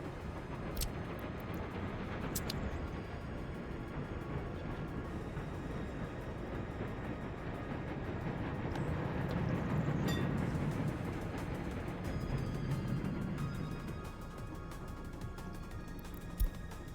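Trams in a tram-building video game roll along with a continuous rumbling rail sound and faint clicks, swelling gently midway.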